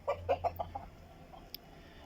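Chickens in a coop clucking, a short close series of five or six rapid clucks that fade out, followed by faint rustling and a brief high chirp.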